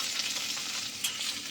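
Food frying in a pan with a pinch of salt and sugar, stirred briefly: a soft, fairly quiet sizzle with light scraping and a small clink, no one talking.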